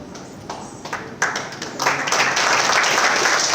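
An audience at an honouring ceremony breaks into applause, starting as scattered claps and swelling into dense, sustained clapping.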